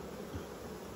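Honey bees hum in a steady, low drone at an open beehive during frame inspection, faint but continuous with no talk.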